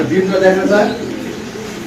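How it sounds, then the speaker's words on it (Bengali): Indonesian dun-coloured giant homer pigeons coo close by in a pair, a few low throaty calls in the first second, followed by quieter background sound, with someone talking over them. "এটা হলো জায়েন্ট হোমা কবুতর একটা ইন্দোনেশিয়ান একটা ডান কালারের"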